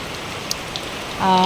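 Rain falls steadily onto a flooded street with a constant close hiss, and a faint tonal sound rises briefly at the very end.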